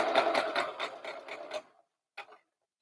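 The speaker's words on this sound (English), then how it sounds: "We're going to reverse stitch here and then forward stitch" A sewing machine runs a short burst of reverse and forward stitching on a doll's top, a rapid rhythmic clatter for about a second and a half, then a brief second burst after a pause.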